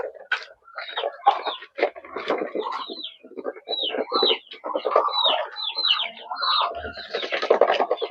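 Busy chatter of hens clucking and calling over each other, close by and continuous, with short bursty notes throughout.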